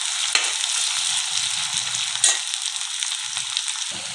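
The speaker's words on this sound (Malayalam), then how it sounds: "ഇഞ്ചി ഫ്രൈ ആക്കാനായിട്ട് ഇളക്കി കൊടുക്കണം" Ginger frying in a pan while being stirred, a soft continuous sizzle with occasional sharper scrapes and clicks of the spatula against the pan.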